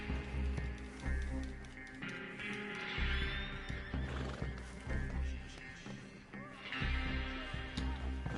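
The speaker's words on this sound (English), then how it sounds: "Now I gotta steal a horse." A horse in the video game Red Dead Online whinnies loudly several times over a rhythmic clip-clop of hooves, close and clear, with game music and effects in the background.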